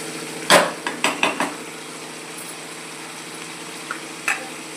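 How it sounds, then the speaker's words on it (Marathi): Masala paste cooks in oil over a low gas flame, giving a soft steady sizzle, with a few sharp clinks of a spoon against the pan near the start and again later. "तर मस्त तेल सुटेपर्यंत आपली जी ही मसाला तेलामध्ये परतल्या गेलेला आहे"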